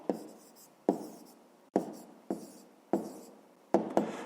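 Pen or pencil writing an answer by hand on paper, close scratchy strokes in short bursts of about six, each starting with a tap, no talk.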